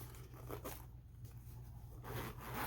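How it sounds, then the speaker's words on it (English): A good-quality zipper on a Hobonichi planner pouch is pulled in a few quick rasping strokes, close and fairly quiet, with brief pauses between the pulls. "And a good quality zipper."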